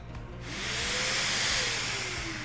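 A Mirka Deros sander's dust collection vacuum switches on and settles into a steady, loud rushing hiss and whir after a brief quiet start.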